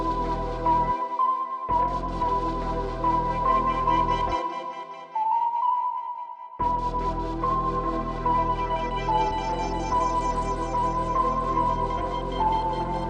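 A catchy synth lead melody built from two or three notes in FL Studio for a type beat, playing loud and alone over a full beat with a short drop-out near the middle.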